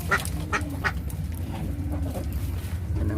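Ducks being fed corn mixed with powder quack in short, repeated bursts, close by and fairly loud, with a steady low background murmur and no talk.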